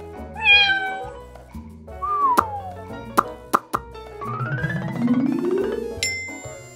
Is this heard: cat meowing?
yes